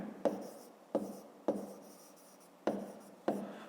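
Pen on paper up close as a fifth-grade math exercise is written out by hand: five short scratchy strokes at uneven intervals, each a soft quick scrape fading out, faint against near silence.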